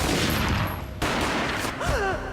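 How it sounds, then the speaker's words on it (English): Gunfire in the PC shooter Max Payne, a loud close burst of shots followed by more bangs, with a brief whining game sound near the end. "A gunshot boomed and she fell down in slow motion."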